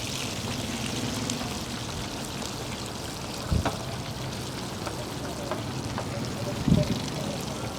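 Fish fries in hot oil with a constant crackling sizzle, broken by two louder bursts of spattering.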